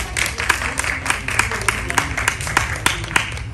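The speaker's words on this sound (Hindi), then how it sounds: "तालियां, तालियां," Audience at a World Hindi Day celebration hosted by the High Commission of India breaks into applause, a fairly close, continuous patter of many hands with sharper individual claps standing out rhythmically.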